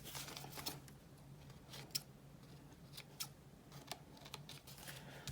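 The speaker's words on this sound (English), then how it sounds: "Just trying to snip off some of those edges" Scissors snipping the paper edges of handmade book page pockets, a quiet series of short, crisp, irregular clicks and cuts close by, with no voices.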